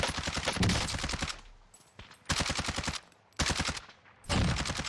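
Rapid automatic gunfire in the video game Warzone comes in four dense, loud bursts separated by brief quieter gaps, with no talk over it.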